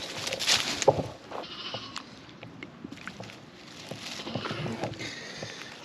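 Sheep on a farm bleat in short calls amid pen noise and light shuffling, fairly close, with no voices over them.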